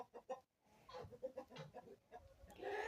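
A rooster clucks in short, agitated bursts as it runs off, close by and without talk.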